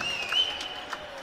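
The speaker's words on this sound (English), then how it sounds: "Sammy Margulies gets a big hand from the crowd" A crowd at the Sarachek college basketball tournament gives a brief burst of steady applause for an injured player, heard from a distance with a faint hum of the arena.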